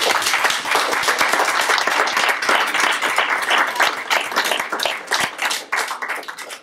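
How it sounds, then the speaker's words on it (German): Audience applause fills a hall at a question-and-answer session on health protection from mobile phones, smart meters and microwaves: dense, steady clapping from many hands that gradually thins and becomes more scattered toward the end. "noch einmal einen besonderen Applaus an Sie"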